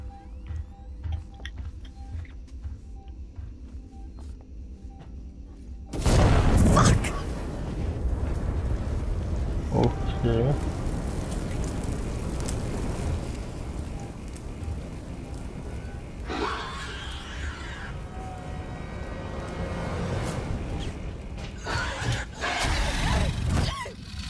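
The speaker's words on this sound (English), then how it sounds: "I should have known that frickin' explosion would frickin'" An explosion in the survival horror video game Alien: Isolation bursts suddenly out of quiet ambience, a loud booming blast followed by a long rumbling roar and clattering debris, with further bursts later in the stretch.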